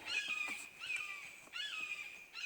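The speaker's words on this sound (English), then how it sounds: "I guess you wonder if you can hear that bird in the background." A bird calls several times in the background, faint shrill repeated notes with a slight downward slide, heard alone over quiet outdoor ambience.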